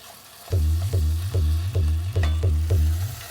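Beef searing in a very hot pan while being stirred, heard as a loud, close sizzle broken by about seven rhythmic scraping strokes at a steady pace, with no talking.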